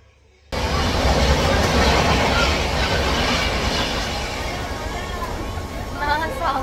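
Train at Naigaon railway station, rising abruptly into a loud, continuous rumble with wheel clatter and faint squeals, while crowd chatter murmurs underneath.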